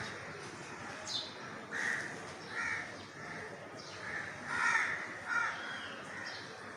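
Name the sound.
birds, crows cawing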